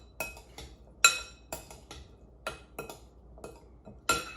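A spoon stirs seasoned canned beans in a pot, giving sharp, irregular metallic clinks and scrapes against the sides, close up with quiet pauses between strokes.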